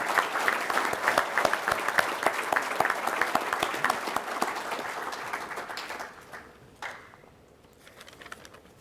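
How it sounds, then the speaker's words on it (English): Sustained applause fills a hall at a local football hall of fame induction, a dense patter of many hands clapping near and steady before thinning to scattered claps. "Please join me in a nice round of applause for all the aforementioned contributors."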